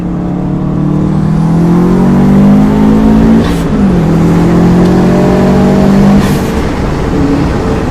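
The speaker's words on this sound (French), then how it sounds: "Ça, c'est le turbo" Turbocharged Subaru WRX STI, Stage 3 tune at about 420 hp, pulling hard under acceleration: a loud, steady engine drone with rising tones and a brief dip near the middle as a gear changes, heard from close by with no talk.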